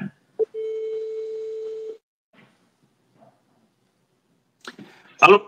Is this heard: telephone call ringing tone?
yes